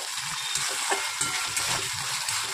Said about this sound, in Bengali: আমি এখানে সম্পূর্ণ পেস্টটাই সবটাই দিয়ে দিয়েছি, দিয়ে ভালো করে নাড়াচাড়া করে নিচ্ছি।